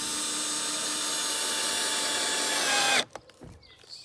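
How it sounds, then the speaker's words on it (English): A power drill runs continuously and loudly at close range for about three seconds while driving screws into pilot holes for DIY cavaletti pole raisers, then stops abruptly, leaving faint clatter. "They're just so easy to put screws in."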